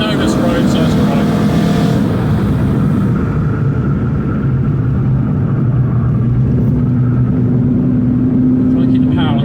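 A cammed Renault Clio 182 Trophy driven hard along a road, its engine note a steady close rumble with rising and falling pitch throughout, heard from inside the car.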